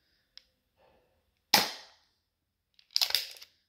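An airsoft derringer pistol shoots BBs in two sharp bursts, a single loud pop followed about 1.5 seconds later by a second, rattling discharge, with faint mechanical clicks before each.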